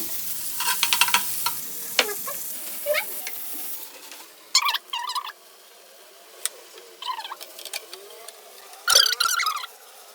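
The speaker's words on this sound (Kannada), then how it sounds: "ಸೊ ಈಗ ಪ್ಯಾನ್ ಬಿಸಿ ಆಗೈತಿ. ಸ್ವಲ್ಪ ಬಟರ್ ಹಾಕೊಳ್ಳೋಣ." Butter melting in a hot pan for pav bhaji gives brief sizzling bursts with scattered clinks and stirring scrapes, moderately close and intermittent, with no voices.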